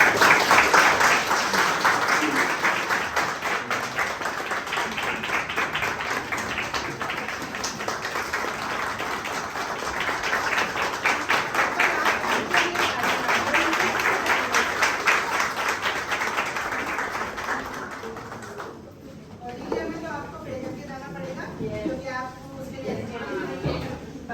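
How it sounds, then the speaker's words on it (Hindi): Loud, sustained applause from a large audience at a Modicare corporate event, a dense wash of clapping for about nineteen seconds before it drops and speech takes over. "जोरदार तालियां।"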